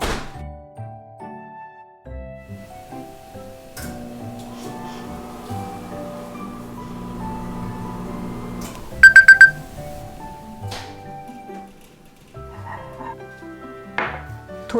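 Microwave oven heating a banana mug cake: a steady, moderate mechanical hum runs for several seconds, then stops with a quick burst of four electronic beeps, followed by quiet kitchen sounds.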